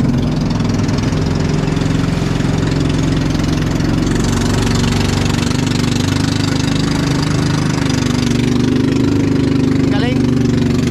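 A motorboat engine drones loud and steady nearby at Wawa Dam, a continuous low rumble that persists throughout while a person talks over it.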